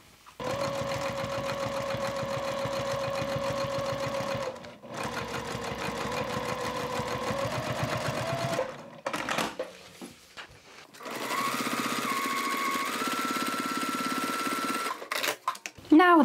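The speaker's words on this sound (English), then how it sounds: "So now I can sew around them too." A sewing machine stitching around curved parts of a shoulder bag: loud, close, steady whirring runs of rapid needle strokes, pausing briefly between bursts, with a few handling noises in the gaps.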